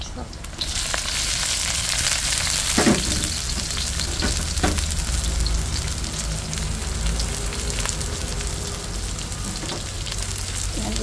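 Onions sizzling and crackling steadily in a hot pan, a dense close frying hiss with a few sharper pops, no talk over it.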